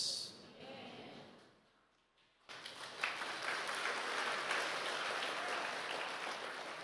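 Church congregation breaking into sustained applause after a brief quiet lull, a broad steady clapping that fills the room and continues to the end.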